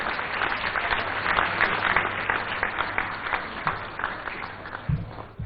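An audience at an award ceremony honouring sanitation workers claps steadily. The applause is dense and sustained across the whole stretch and fills a large hall.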